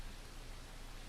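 Rain falling outside makes a faint, steady hiss that continues evenly throughout, with no voices heard.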